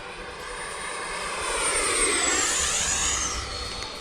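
Horizon Hobby RC F-16 model jet, electric ducted fan at full power, making a loud rising whine that peaks as it passes close and then fades with a falling pitch.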